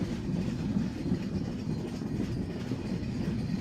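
Express train hauled by an EMD locomotive, Rupsha Express between Khulna and Parbatipur, a steady low rumbling roar with faint rail clatter, heard from inside a carriage, constant and moderately loud.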